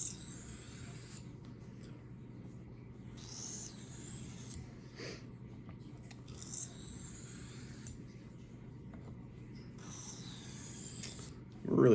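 Steady, quiet rasping strokes of a knife edge drawn across a 1200 grit sharpening stone, repeating in even passes with brief pauses between them.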